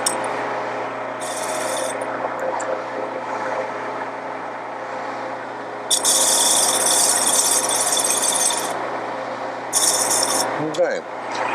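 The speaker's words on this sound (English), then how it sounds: "I'm going to come out here and I'm going to trim off my flange" Tool trimming the flange of a brake drum on a stationary engine during drive plate alignment, a continuous rasping grind with louder bursts of harsh cutting noise, close and fairly loud.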